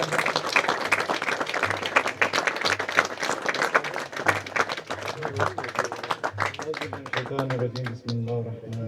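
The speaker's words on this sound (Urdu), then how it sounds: "بھرپور تالیوں میں استقبال کیجئے" An audience at a Mianwali riders club camping gala applauds to welcome the club chairman, dense clapping running throughout, fading toward the end.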